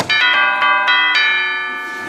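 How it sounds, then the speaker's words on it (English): Door chimes rung at a house, several bright metallic strikes in quick succession whose ringing tones overlap and slowly fade, close and clear with no talk. "they'll need to ring my chimes"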